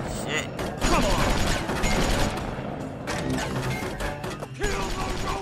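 Shotgun fire in the Tales from the Borderlands video game, loud repeated blasts mixed with clanking mechanical game effects, with voices talking over the action.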